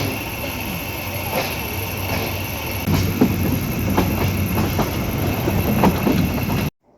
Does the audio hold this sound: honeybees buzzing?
no